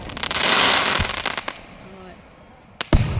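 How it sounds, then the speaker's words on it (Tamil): Fireworks burst and crackle nearby, a long fizzing shower followed by several sharp bangs, with people talking in the background. "அப்புறம் வெடி எவ்வளோ அழகாக வெடிக்கிறது"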